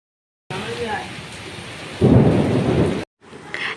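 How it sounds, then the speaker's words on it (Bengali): Evening rain falls steadily, joined partway through by a deep rumble of thunder, before a brief pause and a return of the downpour. "সন্ধ্যার পরে বৃষ্টি হচ্ছে"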